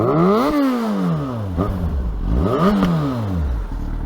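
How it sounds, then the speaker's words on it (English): A Yamaha FZ6 motorcycle's aftermarket exhaust revs up and drops back in two sharp rising-and-falling blips, loud and close, with a rough burbling idle in between. "I have to say, I love the exhaust tone on this bike."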